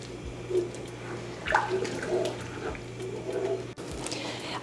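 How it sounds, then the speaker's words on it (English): Broken jasmine rice is swished and rinsed in a bowl of water before cooking jollof rice, giving soft, irregular sloshing and splashing close by over a low steady hum, with no talking. "You want to wash the rice until the water is completely clear."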